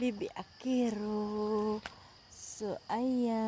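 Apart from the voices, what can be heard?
No everyday noises stand out.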